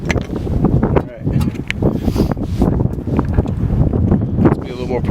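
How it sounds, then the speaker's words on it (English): Wind blowing across a small microphone outdoors during a front brake job on a 2016 Honda Pilot, loud rumbling gusts that rise and fall throughout, with a person talking. "I'm gonna wait till the wind stops."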